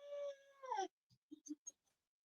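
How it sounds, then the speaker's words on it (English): A dog gives a drawn-out whining howl that bends upward, then a few faint soft clicks and small sounds follow in an otherwise silent room. "Oh, and there's the dog again."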